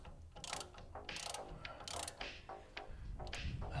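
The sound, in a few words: ratchet tightening bolts on car suspension bushings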